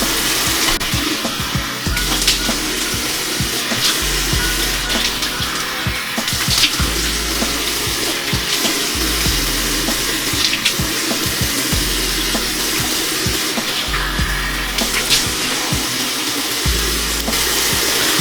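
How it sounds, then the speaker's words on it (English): Tap water runs steadily and fairly loud for a long stretch while Shea Moisture Manuka Honey and Yogurt cleanser is rinsed off a face at a sink, with small splashes and hand movements in the stream and no talking. "Oh, okay, I'm gonna rinse this off now."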